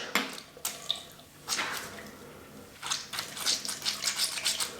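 Wet curly hair squished by hand to work in water, producing repeated close, squelchy splashing bursts that grow into a quick rhythmic series of wet squishes.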